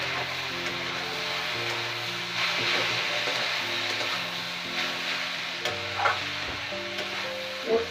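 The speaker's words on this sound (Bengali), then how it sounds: "হলুদ দিয়ে দিচ্ছি, দিয়ে একটু নাড়াচাড়া করবো।" Turmeric is stirred into prawns and potatoes frying in a pan, producing a soft, continuous sizzle with light stirring clatter and a couple of sharper knocks near the end, close and moderately quiet.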